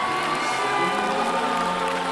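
Large outdoor concert crowd at a Polish Christian worship event applauding and cheering in a steady, dense roar with shouts rising over it, loud and continuous throughout.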